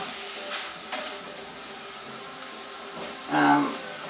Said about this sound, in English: we'll just kind of cook that down a little bit, let all of those flavors kind of merge together